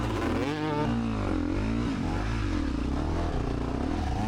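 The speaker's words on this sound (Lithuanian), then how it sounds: "Mane nervina klausytą motociklo garsą, toksai bangom atleidžia." An enduro motorcycle races during a Lithuanian Enduro Championship stage. Its engine note swells and drops repeatedly under uneven throttle, a continuous moderately distant drone with no talk.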